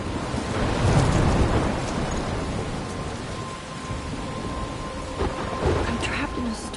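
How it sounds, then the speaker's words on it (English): Heavy rain pours steadily through a thunderstorm in the video game Life Is Strange, with a loud rumbling thunder swell near the start and more distant rolls later, a constant dense wash of rain throughout. "I'm trapped in a storm?"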